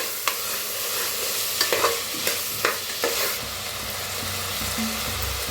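Green peas tossed with coriander in a hot pan, a steady close sizzle under a handful of sharp spatula scrapes and taps spread through the stretch, no voices.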